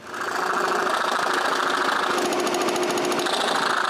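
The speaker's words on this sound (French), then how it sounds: "je dois encore utiliser la scie à chantourner" A scroll saw cuts through plywood with a steady, loud, rapid buzzing chatter that runs continuously and close by, with no talk over it.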